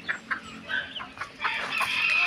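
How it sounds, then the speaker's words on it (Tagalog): Chickens cluck and call in short bursts near a farm while being fed, a busy, close flock growing denser and louder toward the end. "Nagpapatoka po pala ng mga manok si Tatay Roman."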